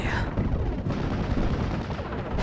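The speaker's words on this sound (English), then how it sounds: "Ammo explosion." In the Steel Division: Normandy 44 wartime strategy game, ammunition cooks off in an explosion, followed by a dense rumbling barrage of booms and gunfire-like cracks that stays loud and continuous.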